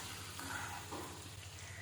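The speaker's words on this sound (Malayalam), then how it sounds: "അപ്പോൾ ഇതും നല്ലപോലെ എണ്ണയിൽ കിടന്ന് വേകട്ടെ." Chicken pieces frying in oil with masala, giving a soft, steady sizzle and hiss with a low hum underneath, faint and close, with no talking.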